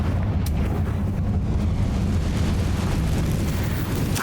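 A Confringo fire spell detonates in the video game Hogwarts Legacy, a loud, dense blast of roaring rumble that fills the whole moment with sustained crackling intensity and no talking.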